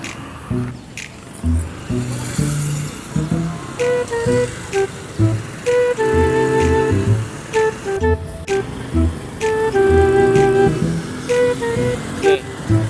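A car passes close by on a road during a Philippine driving practice session, its engine rising and falling amid traffic. Short horn toots repeat, with other vehicles heard around it.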